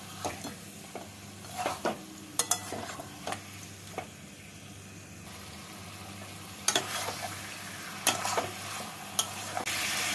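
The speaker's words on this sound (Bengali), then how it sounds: "চিকেনগুলোকে দিয়ে গ্যাসটাকে মিডিয়াম ফ্লেমে রেখে মশলার সাথে কষিয়ে নেব" Yogurt-marinated chicken stir-fried with spices in a pan over a medium flame gives a steady, close sizzle, broken by repeated scraping stirs and a few sharp utensil knocks.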